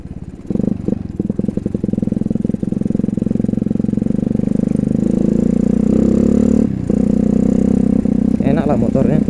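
A modified Honda CRF 150L motorcycle engine, running slightly rough, holds a loud, steady low drone close by for the whole stretch, with a brief dip near the end.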